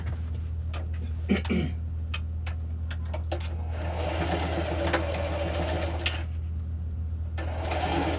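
A sewing machine stitches quilt block pieces in short whirring bursts with pauses between them, and a low hum runs underneath throughout. A voice is faintly present at moments.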